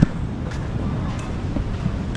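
Strong wind at a beach roars steadily in broadband rushing gusts that buffet the microphone, loud and close throughout with no talk.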